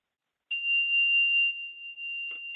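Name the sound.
mindfulness bell rung once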